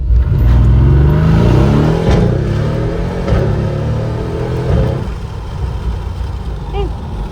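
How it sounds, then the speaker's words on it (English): A Mercedes-AMG GLC63 S SUV's 4-litre twin-turbo V8 revs hard and accelerates nearby, a deep throbbing roar with gear changes through quad exhaust tips, fading somewhat toward the end. "A big body GLC with flared arches and quad tips, powered by a 4-litre twin-turbo Mercedes V8"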